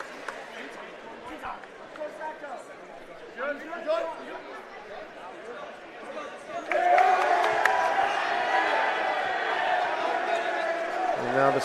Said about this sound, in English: the students who were cheering them on are enjoying it